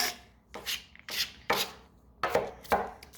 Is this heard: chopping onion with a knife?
yes